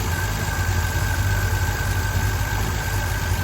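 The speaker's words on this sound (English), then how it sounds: "Idle speeds up a bit." A Triumph Mk1 PI engine idles steadily, a continuous low rumble with an even mechanical hum that holds at constant speed throughout, close and fairly loud with no voices.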